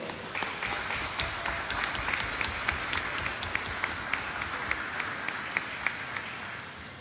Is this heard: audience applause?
yes